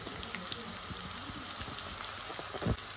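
Eggplant roasts in a pan with turmeric, giving a faint, continuous crackling sizzle like light rain, soft and close, with a brief low thump near the end.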